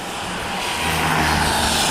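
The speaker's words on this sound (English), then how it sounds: "Traffic coming through now." Road traffic passes during a tornado near Rice, Texas, a loud, broad rushing roar of vehicles and wind close by that swells steadily louder across two seconds.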